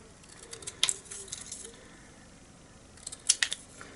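Scissors snip a paper sentiment for a handmade hedgehog birthday card, two short bursts of crisp cutting a couple of seconds apart, close and quiet with no talking.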